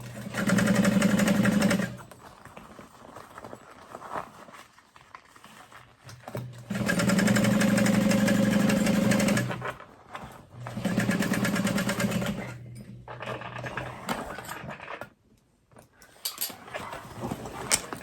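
A sewing machine stitches a fabric tote bag shut in several loud, steady whirring runs, pausing between bursts, up close with no voices.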